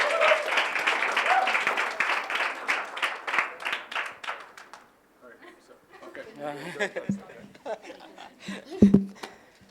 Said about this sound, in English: Clap for Jennifer, please.